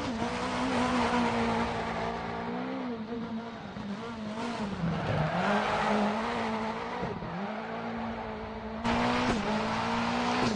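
Subaru Impreza 22B in the racing game Assetto Corsa, its engine droning steadily with shifting pitch through gear changes and tires scrubbing and squealing over loose, open roads, loud and continuous with no talk.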